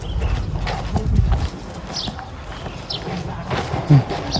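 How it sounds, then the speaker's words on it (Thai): Hard-soled shoes clack loudly on the ground while walking, giving an irregular series of close, sharp knocks and thuds, with a louder stomp near the end. "ขออภัยนะครับ ถ้ามีเสียงรองเท้านะครับ"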